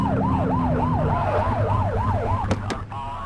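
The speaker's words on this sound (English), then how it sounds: "Get on their tail and flip the siren." Police car siren in the video game The Precinct, a loud close wail that sweeps rapidly up and down in a steady repeating cycle, ending in a couple of sharp electronic blips over a low engine rumble.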